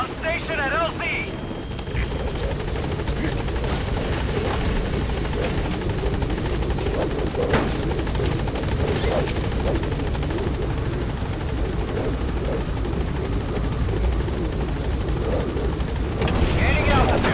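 Pequod, the support helicopter in Metal Gear Solid V: The Phantom Pain, hovers at a landing zone with a loud, steady rotor roar throughout, while a voice talks over the engine noise.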